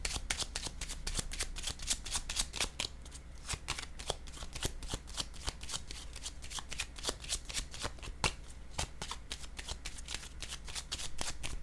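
A deck of tarot cards being shuffled by hand, a steady run of crisp riffling slaps and flicks repeating close up and alone for the whole stretch.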